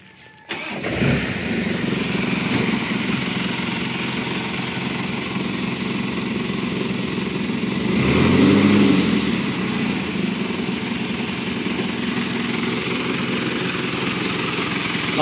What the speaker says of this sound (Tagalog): Makina pala nito mga soyo ay 4M51 na Mitsubishi modelo.